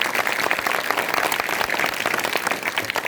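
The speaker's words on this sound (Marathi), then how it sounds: "जरा टाळ्यांचा कडकडाट झाला पाहिजे" Audience applause at a Shivaji Maharaj birth anniversary lecture in Wadgaon, a dense, steady burst of many hands clapping that sustains evenly at close range for a few seconds without talk.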